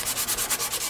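Maple mandolin neck being hand-sanded to final shape during a broken-neck repair, with steady back-and-forth rubbing strokes in a close, even rhythm, about ten passes with no talking.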